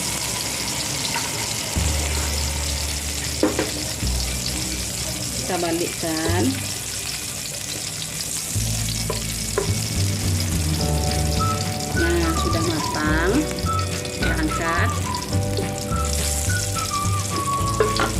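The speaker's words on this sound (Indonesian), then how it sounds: "untuk terasinya kita goreng aja dengan sisa minyak tadi" Shrimp paste (terasi) frying in leftover oil in a pan on a stove, a steady crackling sizzle with scraping stirs throughout, while someone talks over it.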